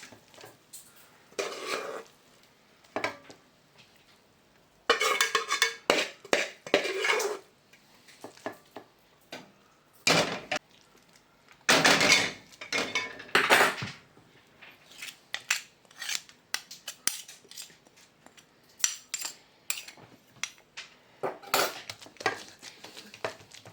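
A coconut sweet is scraped from a pan into an oiled metal plate, with repeated bursts of metallic scraping and clinking of a utensil against metal separated by short quiet gaps.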